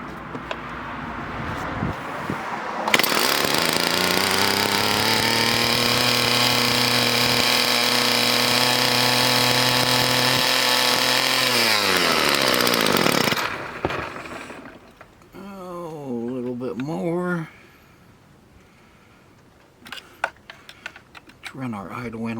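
Stihl FS36 string trimmer's small two-stroke engine drones loudly and steadily for about ten seconds, then drops off and sputters and revs unevenly at a lower idle during carburetor adjustment.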